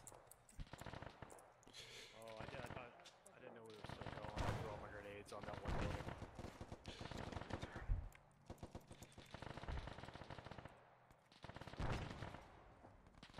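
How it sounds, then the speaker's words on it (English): Grenades thrown and going off during an Arma 3 infantry firefight, a dense run of sharp blasts and rapid cracking bursts, loud and repeated in clusters, with radio-style voices talking between them. "Alright, I got grenades going out."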